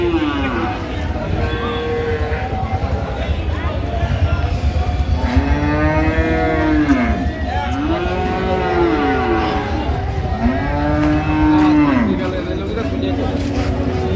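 Cows and calves moo repeatedly at the Ambari cattle market in Dinajpur, with several drawn-out calls rising and falling, while buyers and sellers talk over the busy crowd noise.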